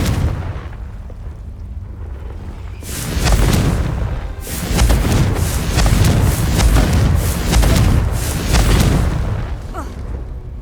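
Hogwarts Legacy Confringo blasting spell erupts into a series of loud, booming explosions, several heavy blasts rolling one after another at close range after a quiet start.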